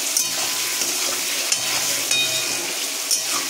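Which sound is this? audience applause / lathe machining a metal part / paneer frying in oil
paneer frying in oil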